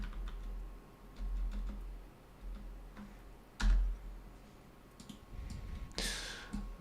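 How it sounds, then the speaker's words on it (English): Rapid typing on a computer keyboard, heard faintly over a horror game stream: a quick patter of soft clicks and ticks spread across the clip, with a few louder thumps and bursts breaking through. "I hear his keyboard going mad on the stream."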